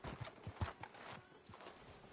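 Horse hooves clip-clopping in a video game, a quick uneven run of soft close steps at low volume with no talking over them.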